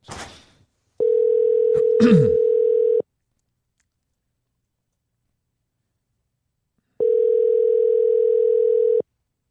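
A telephone ringback tone during an outgoing call: two long, steady, loud tones separated by a silent gap, with a brief burst of noise before the first.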